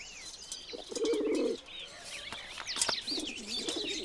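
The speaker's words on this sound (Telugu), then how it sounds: "ఈ పక్షులు నావే వీటిని నేను పెంచుకుంటున్నాను" Pet birds, pigeons or doves kept at home, cooing in low bursts alongside a steady chatter of high chirps and tweets, close and moderately loud with a brief flutter of wings.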